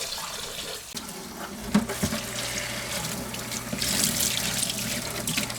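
Water runs steadily from a tap or hose while dirt is washed out during RV painting prep work, a continuous splashing rush with no talk over it.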